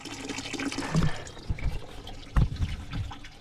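Coolant draining out of a car engine after the thermostat opens, irregular gushing and splashing of liquid with bursts and gurgles, close by and without talking.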